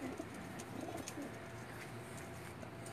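Sialkoti pigeons coo softly in a loft, low repeated cooing notes under a constant hiss of background noise, faint and close.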